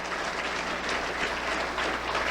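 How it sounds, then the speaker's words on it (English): A crowd at a political address by the Prime Minister applauds a woman senator, dense, even clapping with no break across the whole stretch. "Could we give our Lady Senator a round of applause?"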